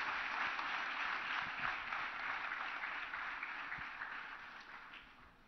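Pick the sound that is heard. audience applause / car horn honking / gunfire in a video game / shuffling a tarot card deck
audience applause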